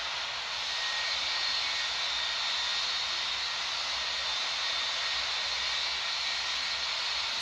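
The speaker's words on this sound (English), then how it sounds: "Engine number 1 can come on now." An airliner engine spools up in the Infinite Flight simulator, a steady, broad jet whine and hiss that holds level and close throughout.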